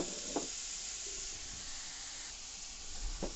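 Onions sizzling quietly in a hot pan while chicken gravy is being made, a soft steady hiss with a couple of faint knocks from stirring.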